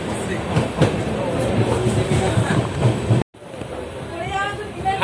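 Passenger train rolling on rails on a journey toward Puri, a steady broadband rumble with faint rhythmic clatter that cuts out briefly and resumes, voices talking over it.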